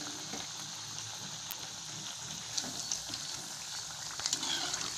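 Jackfruit seed vadai frying in oil on low heat: a soft, steady crackling sizzle with scattered small pops, fairly faint and uninterrupted.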